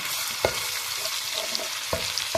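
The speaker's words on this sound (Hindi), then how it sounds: "अदरक और लहसुन को अच्छे से फ्राई कर लेंगे" Ginger and garlic paste fries in oil with a steady soft sizzle, broken by a few sharp scraping clicks from stirring at irregular intervals.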